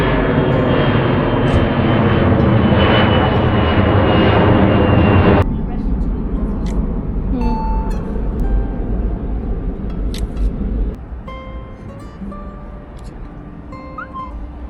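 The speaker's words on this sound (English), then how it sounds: "One more flight taking off." Airplane taking off at Paro Airport, a loud roaring engine swell for the first few seconds that then cuts to a quieter distant rumble with scattered background noises and faint voices.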